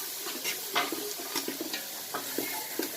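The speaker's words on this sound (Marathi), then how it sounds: "वाटण घालून झाल्यानंतर आपण जरासं फ्राय करून घेतो" Thick ground masala paste sizzles and spatters in a hot pan on a low flame while a spoon stirs it, with quiet scraping knocks repeating every half second or so.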